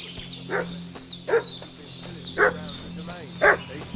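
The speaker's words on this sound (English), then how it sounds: "What's that dog making such a fuss about?" A dog barks repeatedly in Kingdom Come Deliverance II, a series of sharp, spaced barks at a fairly close distance over a steady low ambient hum.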